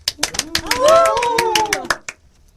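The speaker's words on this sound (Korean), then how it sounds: "우리 모두 이분들을 위해서 박수 한번 쳐볼까요?" An audience at a local festival presentation gives scattered, uneven applause, with sharp individual claps close by and a drawn-out cheering voice rising over them before everything drops to quiet.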